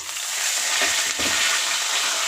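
Potatoes and bottle gourd stems fry in a pan with a steady, airy sizzle, broken by a couple of soft stirring clatters near the middle, with no voices.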